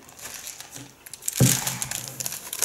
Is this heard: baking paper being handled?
yes